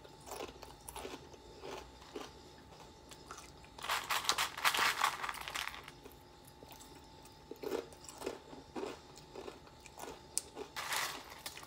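Dry Chocolate Frosted Flakes cereal crunched between the teeth, close and fairly quiet, with bursts of crisp, brittle chewing that come and go over several seconds and no talking.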